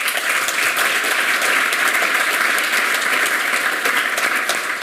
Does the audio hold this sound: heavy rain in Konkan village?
no